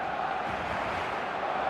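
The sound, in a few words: stadium crowd in eFootball video game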